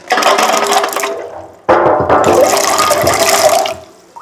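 Water gushes loudly from a tap while washing bilimbi fruit, briefly stopping then running again in a strong, close stream.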